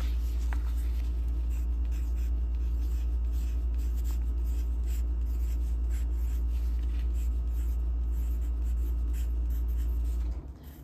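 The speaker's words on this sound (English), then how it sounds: "Let me write it down for you." A pen scratches across paper at close range as an email address is written out, a continuous soft scribbling that carries on alone for about ten seconds before stopping abruptly.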